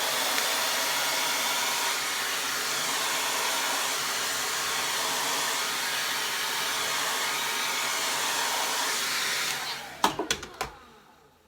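Hair dryer blow drying a short pixie haircut, a loud steady whooshing roar held close for about ten seconds before it cuts off, followed by a few handling clunks.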